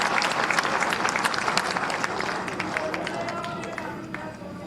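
Loud applause from an audience at a grand felicitation ceremony for newly elected mayor and councillors in Haryana, dense and sustained clapping throughout, tapering slightly near the end.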